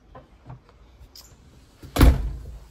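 The front door of a house opens with a few faint clicks and rattles, then a single loud thump close by, trailing into a short rumble.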